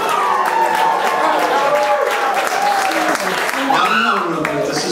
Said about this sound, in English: please give a tepid if respectful round of applause to Mr. Rupert Sturgis coming to me.